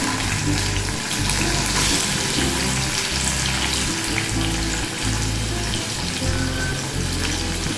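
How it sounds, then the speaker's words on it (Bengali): Puti fish rubbed with salt and turmeric sizzle in very hot oil in a pan, a loud continuous crackle with wet spattering bursts, no talking. "এবার এতে পুঁটি মাছগুলো ছেড়ে দেবো।"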